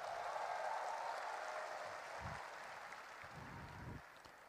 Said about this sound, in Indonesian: Belum selesai udah tepuk tangan.